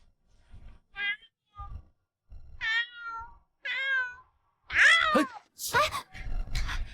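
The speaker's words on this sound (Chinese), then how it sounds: "野猫又出来吓人" Feral cat meowing in a quiet imperial palace garden, several distinct close cries in a row, the last ones louder and more drawn out, with brief soft voices between them.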